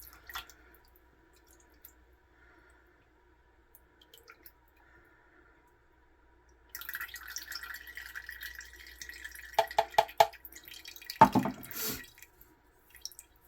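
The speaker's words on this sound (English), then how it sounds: "grab my little strainer here and strain in my lime juice" Lime juice for a key lime pie pouring through a small strainer into a bowl, a quiet room with faint taps, then a short trickling, splashing stream near the end with a few drips.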